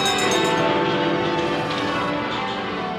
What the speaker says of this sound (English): We'll be welcoming the world with the sound of our bells.